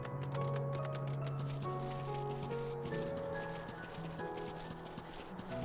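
A horse gallops in the video game Final Fantasy XIV with rapid rhythmic clip-clop hoofbeats under a layered game music score, steady throughout and without speech.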